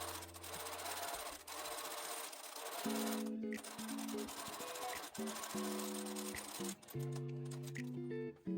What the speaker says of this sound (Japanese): 表からアイロンで整えたら5ミリから7ミリ幅ぐらいでステッチをかけておき